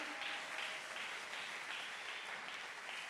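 A congregation applauds at a church service, with steady, even clapping that sounds faint and distant and never lets up.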